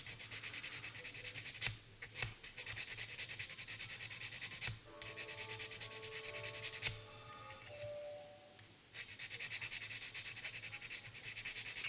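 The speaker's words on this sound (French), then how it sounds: "la lime diamant et on vient poncer jusqu'au temps que ça soit ras" Repeated rasping strokes from a diamond file sanding a 1/25 Revell Mitsubishi Eclipse model car body, close and quiet, steady and rhythmic with a few sharp taps and a brief pause partway through.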